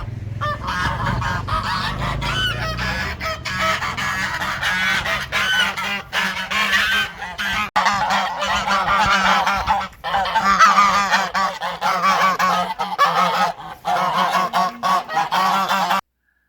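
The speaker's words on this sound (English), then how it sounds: "The water is guarded by a gaggle of geese." A gaggle of geese by a lake honks loudly and insistently, with overlapping harsh calls repeating in rapid bursts nearby and only a few brief pauses.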